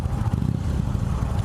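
A 2017 Indian Chief Vintage V-twin motorcycle engine idles at 750 RPM with a low, uneven lope, a steady rumbling throb close by, with no voices.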